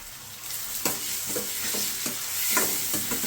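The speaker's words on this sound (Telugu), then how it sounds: "బాగా కలిపారు" Turmeric and ginger-garlic paste stirred into a bitter gourd curry in a frying pan, soft sizzling under a series of quick scraping spoon strokes, close and fairly quiet.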